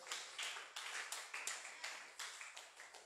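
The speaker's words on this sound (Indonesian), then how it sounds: "Beri tepuk tangan bagi Tuhan." A church congregation claps together in quick irregular bursts, close and fairly loud, with no talking over it.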